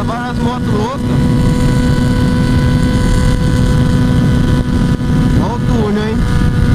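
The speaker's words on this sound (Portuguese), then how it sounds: "Tem várias motos loucas." Several motorcycles race at high speed on a road, a loud continuous roar of wind and engines with rising revving notes near the start and again near the end.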